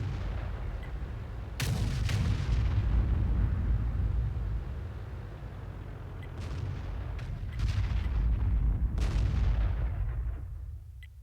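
Heavy tank cannon fire in a World of Tanks style battle with M53/M55 self-propelled guns, several deep booming blasts that roll and echo, spaced a few seconds apart with rumbling low-end between shots.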